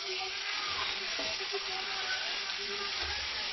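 Curry leaves, mustard seeds and ginger frying in oil for a fish curry, with tomatoes going in; a steady, dense sizzle runs throughout with faint stirring and soft background voices.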